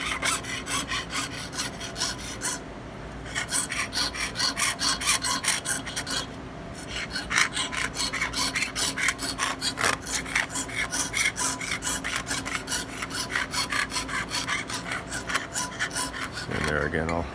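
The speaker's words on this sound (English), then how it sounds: "The jeweler saw can turn in almost in the width of its own cut of the saw cut" A jeweler's saw cutting metal in fast, steady back-and-forth strokes, close and rasping, with two brief pauses early on and no talking.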